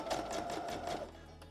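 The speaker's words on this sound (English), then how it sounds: "we are just going to sew one line here to attach them right this way" A sewing machine stitches a line of fabric for a homemade packing cube, giving a rapid, rhythmic chatter of needle strokes that slows and stops, fairly close and alone with no talk.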